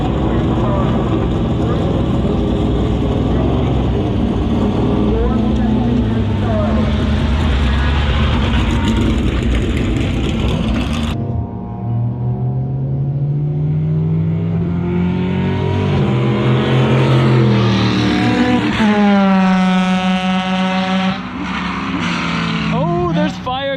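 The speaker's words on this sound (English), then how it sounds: "Coming out of that little rotary 13B car, the yellow one" A yellow car with a rotary 13B engine out on a race track, a buzzing, rising engine note that passes and fades, then returns with clear upshifts and sweeping pitch changes.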